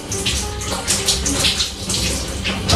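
Tap water runs steadily from a faucet as fingers are rinsed, a close, continuous splashing stream with no talk over it.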